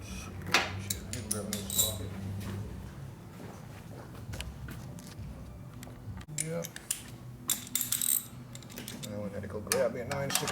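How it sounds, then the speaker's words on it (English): Metal socket wrench sockets clink and rattle as someone rummages through a toolbox while rebuilding a 1936 Harley-Davidson flathead motorcycle, with sharp metallic jangles scattered irregularly and close by. "grab a new socket"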